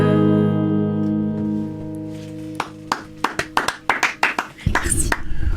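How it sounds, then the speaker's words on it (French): Applause from two people in a studio: a dozen or so sharp, close hand claps in an uneven rhythm, starting after a sustained musical chord fades and speeding into a brief flurry at the end. "même si nous ne sommes que deux à applaudir"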